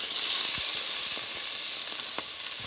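Crushed ginger, big pieces of green chili and curry leaves sizzle in hot oil for moong dal khichadi, a loud steady crackling hiss with scattered spatula knocks.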